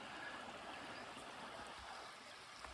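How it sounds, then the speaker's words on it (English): A small tributary stream on the Manistee River Trail, on U.S. Forest Service land, flows with a faint, steady watery rush that carries on unbroken throughout. "This is a little tributary."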